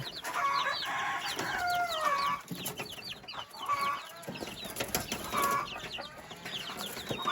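Chickens cluck and a rooster crows nearby while newly hatched chicks, three days old, peep in a steady chorus of high chirps that runs through the whole stretch.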